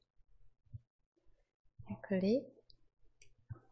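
Mouse clicks on the Windows taskbar, a few short quiet clicks spaced apart, with a brief voiced sound in the middle.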